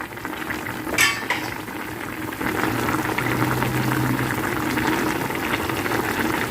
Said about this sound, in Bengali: আরেকটু সেদ্ধ হোক, আরও 5 মিনিট। আট থেকে 10 মিনিট ফোটালাম মিডিয়াম ফ্লেমে।